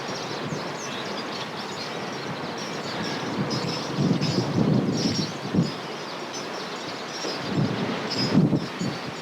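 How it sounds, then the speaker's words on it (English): Steady wind roars and buffets outdoors, with gusts swelling louder a couple of times against a constant rushing background. "Very windy here today"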